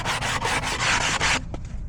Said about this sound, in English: I was sanding the bottom because they're gonna have to put their foot under here.